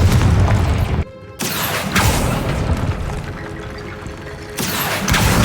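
A Confringo fire-blast spell from Hogwarts Legacy bursts with a loud, booming explosive crack, followed by a sustained crackling roar that swells again near the end.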